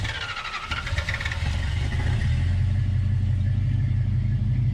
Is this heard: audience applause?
no